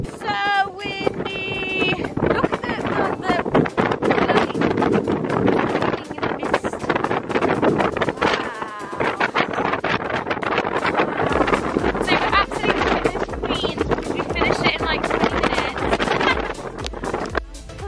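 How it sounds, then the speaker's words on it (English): Strong wind buffets the microphone outdoors, producing steady rumbling gusts throughout while people talk and laugh over it. "It's so windy."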